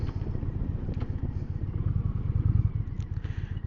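Indian Roadmaster motorcycle with a 112 cubic-inch V-twin pulling hard through its gears, a loud, close, throbbing low engine rumble rising steadily without a break, heard from the rider's position.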